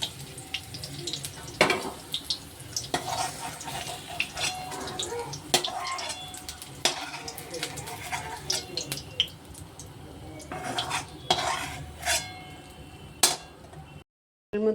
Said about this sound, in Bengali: এর মধ্যে আমি একটু এলাচ আর দারচিনি ফোড়ন দিয়ে দিলাম, আর দিয়ে দিলাম একটু লবঙ্গ আর কুচিয়ে রাখা পেঁয়াজ